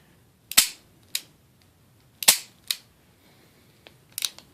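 Sharp mechanical clicks of a single-action gun trigger dry firing, about six snaps at irregular intervals, close and crisp, with silence between them.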